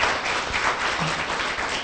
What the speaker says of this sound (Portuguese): Pode dar uma salva de palmas para Jesus?